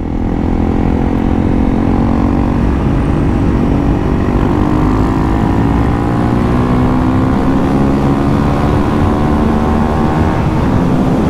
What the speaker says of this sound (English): Fourth gear is ripping well up over 100 now.